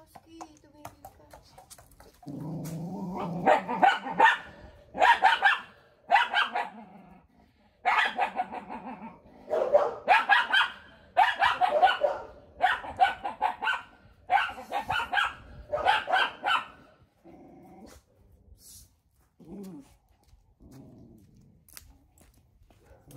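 A dog barks loudly in repeated bursts of several barks each, with short pauses between, trailing off into a few softer yips and growls.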